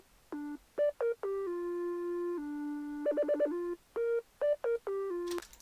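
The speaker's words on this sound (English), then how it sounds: "The second thing I did was add a sine wave background synth," A Serum sine wave synth plays a simple background pattern of clean, pure tones in short stabs and held notes, with a quick trill of repeated notes partway through, loud and alone.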